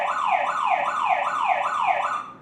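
A Staniot home security system's alarm siren set off by its SOS button, a loud close electronic wail sweeping rapidly up and down in a fast repeating cycle, with no voices.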